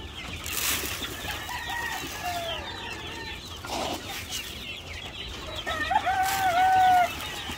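Chicks clucking and cheeping at feeding time on a poultry farm, scattered soft calls with a few sharper peeps, fairly close and moderate in volume.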